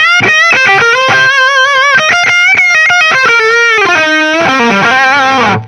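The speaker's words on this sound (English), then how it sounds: "switch to my lead distortion" Electric guitar played through the lead distortion channel of a Fender Duel Pugilist pedal, a loud, saturated run of quick picked notes settling into sustained, wavering held notes before cutting off.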